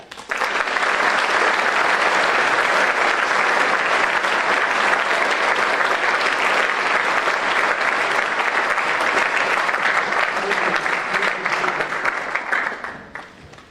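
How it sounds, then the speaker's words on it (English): A crowd at a school Veterans Day program applauds veterans in the audience with loud, sustained clapping that fills the room for about thirteen seconds before tapering off at the end. "please join me in a round of applause to thank these amazing men and women who are here with us today"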